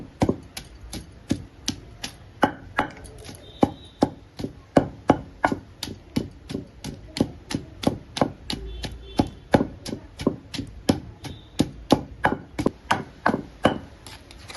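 Garlic cloves and cumin pounded in a mortar for a ridge gourd and green chilli chutney, a steady run of sharp, evenly spaced thuds, close and distinct, continuing without talk.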